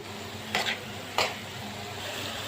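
Garlic goes into hot oil in a pan while liver cooks, giving a steady low sizzle broken by two quick stirring scrapes of a utensil, fairly close.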